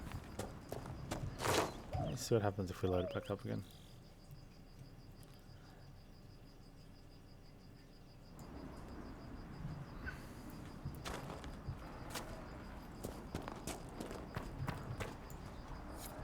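Horse hooves clip-clop in Dragon Age: Inquisition, a rhythmic walking beat over a steady bed of chirping crickets, with someone talking over parts of it.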